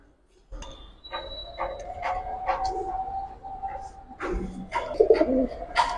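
Old-breed red Chulli pigeons cooing up close, repeated soft throaty coos in short bursts with a few chirps, mixed with other sounds of handling.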